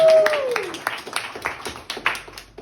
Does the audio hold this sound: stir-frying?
no